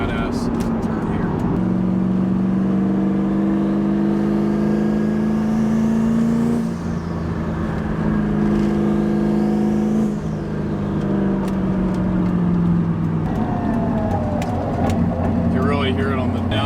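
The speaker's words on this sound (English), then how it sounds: "I hope you guys can hear that little whine in the gearing" A steady high T56 transmission gear whine rises and falls with the engine as a turbo Mustang drives, under a continuous motor drone and occasional talking.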